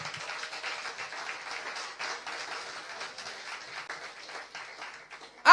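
A church congregation applauding, a sustained wash of many hands clapping at moderate distance, continuous and fairly even, with a louder sound cutting in at the very end.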